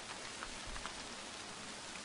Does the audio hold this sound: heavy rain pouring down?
yes